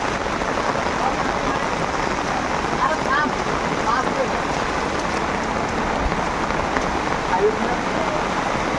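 Steady rain pattering on a surface at a cattle market in Sylhet, a dense continuous hiss with scattered drop sounds throughout.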